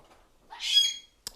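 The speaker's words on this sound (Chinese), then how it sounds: "我要安抚一下我的鹦鹉。" A pet parrot gives a short harsh squawk indoors, fairly close and moderately loud, followed by a brief sharp chirp after a pause; no one talks over it.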